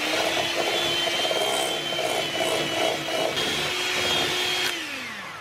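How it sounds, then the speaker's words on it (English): Egg yolks are beaten with vanilla and sugar or stevia for a gluten free almond cake, a continuous loud whirring drone of an electric mixer running steadily near at hand, easing off slightly at the end, with no talk. "and we'll just whisk that together."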